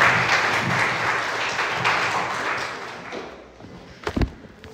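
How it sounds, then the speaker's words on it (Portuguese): A church congregation applauds, a broad wash of many hands clapping that gradually dies away, followed by a few louder thumps near the end. "uma salva de palmas"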